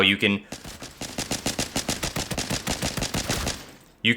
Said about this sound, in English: if you keep it in full auto and just tap the trigger like you're shooting single fire